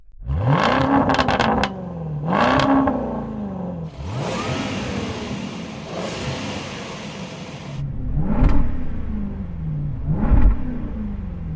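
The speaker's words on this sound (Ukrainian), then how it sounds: "я визнаю, що звук чудовий, але це може бути просто v 8" The V8 of a Land Rover Defender OCTA revs repeatedly and hard up close, with sharp rising blips that settle back to idle between bursts and a longer sustained roar in the middle.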